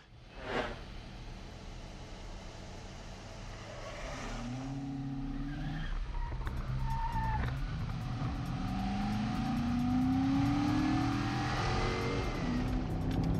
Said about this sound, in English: This car right here was going 62 over and a 35 over there.